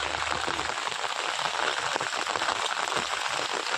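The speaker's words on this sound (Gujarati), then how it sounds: "વરસાદ પડી રહ્યો છે" Steady rain pours down in a village, a dense continuous hiss of drops close by with a faint rattle on nearby surfaces, holding level throughout with no voices.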